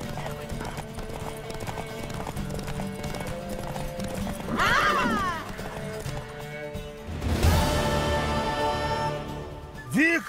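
Horse hooves clopping and a horse neighing in the video game Witcher 3, a steady clip-clop under in-game music and ambience, with two loud whinnies rising out of the mix partway through and a brief snort near the end.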